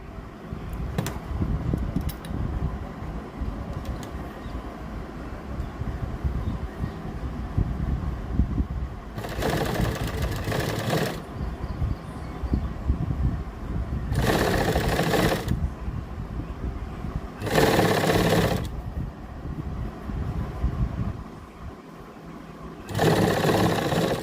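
A sewing machine stitches an invisible zip onto a kurti in several separate runs of rapid, close mechanical whirring, with quieter handling and background hum in the pauses.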